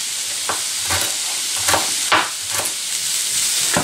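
Chopped vegetables including celery sizzle and fry in a pan with a steady hiss, broken by a few clattering stirs.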